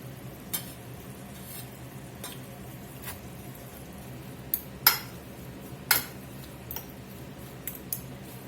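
Chopped banana peppers being stirred into braised beef in a pot, with sparse utensil scrapes and clinks spread across the clip over a faint background sizzle.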